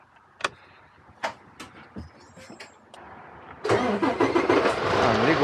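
A car engine cranks after a few clunks and knocks, catching at the end and settling into a loud, rough running rumble close by.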